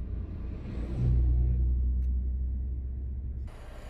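Cranes, excavators and heavy trucks work at night at a clay digging site in Bac Giang, giving a deep, steady engine rumble that swells, then ends in a hiss-like rush.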